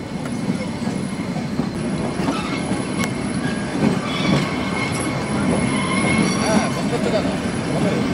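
A moving passenger train rolls past tea gardens, its carriage filled with a steady close rumble, rattling wheels and faint squeals throughout, with a voice briefly audible in the background.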